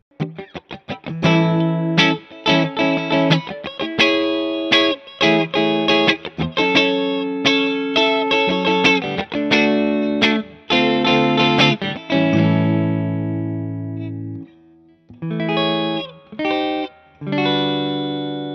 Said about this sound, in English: let's try just, just some, some kind of funky, funky chords uh, to see how it deals with it.